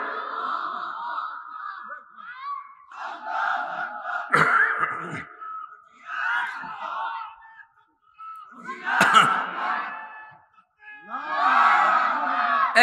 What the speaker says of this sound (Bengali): সবাই তোলেন স্লোগান, সবাই তোলেন